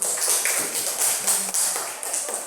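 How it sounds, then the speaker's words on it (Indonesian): Children in a classroom clapping their hands together, heard as a few loud bursts of close, crisp clapping in quick succession, with short dips between bursts. "Kita tepuk tangan semua."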